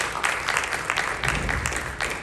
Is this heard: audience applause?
yes